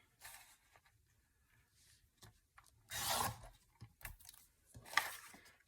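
Paper being trimmed for a craft kit gives quiet, intermittent scraping and cutting rustles in short bursts, with a couple of louder tearing-like swipes, close up and without talking.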